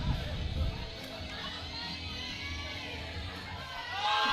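An excited crowd at a USA Powerlifting winter meet in Virginia, ahead of a 100-kilo lift, makes a steady wash of chatter and raised voices with scattered whoops, swelling louder at the start and again at the end.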